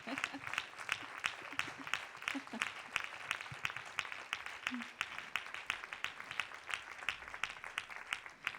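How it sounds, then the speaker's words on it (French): An audience at a francophone translators' conference applauds its translators and revisers, with steady, fairly even clapping throughout and faint voices murmuring underneath. "est-ce qu'on peut applaudir nos traducteurs et réviseurs?"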